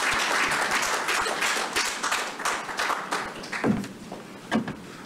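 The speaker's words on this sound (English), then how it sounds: "Another applause for the recipients of the Order of the Volta." Audience at a book launch claps in a lively, uneven round that thins toward the end, with a few louder individual claps standing out near the close.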